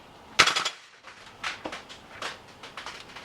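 A VFC 417 gas blowback airsoft rifle fires on full auto, shooting 0.2 g BBs on standard green gas. Several short bursts of rapid, sharp clacking shots follow one another, loud and close, with no talking.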